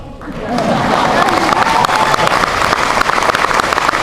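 An audience claps steadily, a dense wash of applause that swells in the first half-second and continues evenly throughout.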